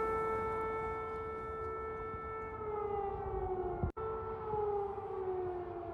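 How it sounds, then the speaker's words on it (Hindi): An air raid siren in Ukraine wails steadily from a distance, its long tone slowly sliding down in pitch, broken by a brief sharp click near the end. "रात में भी सायरन की ही आवाजें सुनाई पड़ती हैं"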